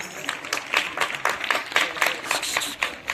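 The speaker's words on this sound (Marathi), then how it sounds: "जोरदार टाळ्या." A school audience bursts into loud, sustained applause at a self-governance day performance, with many hands clapping densely and unevenly across the whole stretch.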